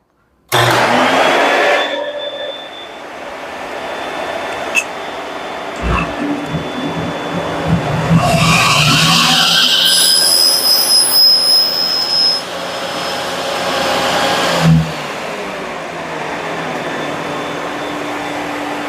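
A saw fitted with a crosscut blade and guided by a miter gauge crosscuts the end off a piece of wood. The motor starts abruptly and whines loudly, and the tone shifts and strains as the blade passes through the cut.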